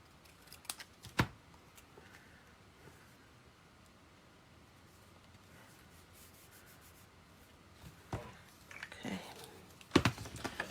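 Scissors cut paper for an Easter papercraft card: a few crisp snips up close at the start and a cluster of sharper cuts and paper rustling near the end, with quiet handling in between.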